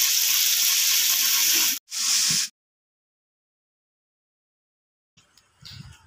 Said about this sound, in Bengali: তেলে দিয়ে 2 মিনিট মতো আমি ভালো করে নেড়ে নেব